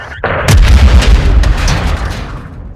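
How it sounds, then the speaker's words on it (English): Incoming missile explosion in the Modern Warfare 2 campaign, a loud, close, heavy boom followed by a rumbling blast that slowly fades over a few seconds. "Incoming missile!"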